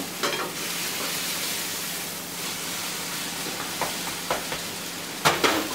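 Okonomiyaki batter with cabbage sizzles in oil on a griddle, a steady hissing fry throughout with a few spatula scrapes and taps, close by and moderately loud, with no talking.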